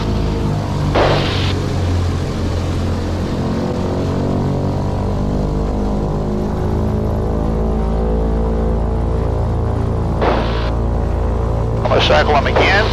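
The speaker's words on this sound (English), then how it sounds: "Now I'm going to cycle the props." A twin piston aircraft's engines drone loudly at about 2,000 RPM during a run-up as the propellers are cycled, giving a steady heavy throb with brief whooshing surges in pitch and a voice speaking over it.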